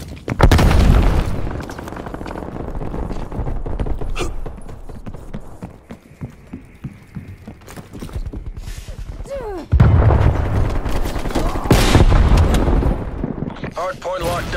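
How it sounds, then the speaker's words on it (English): Grenade explosions and rapid gunfire in a Call of Duty match on the Nuketown map, with loud bursts and heavy booms recurring throughout, under game announcer voice lines. "Throwing grenades."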